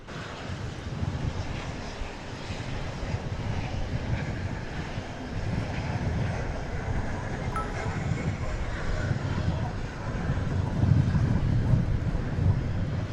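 A plane takes off from runway 18 left at DFW Airport at night: a steady, fairly distant engine roar with broad rumble and wind buffeting on the microphone throughout.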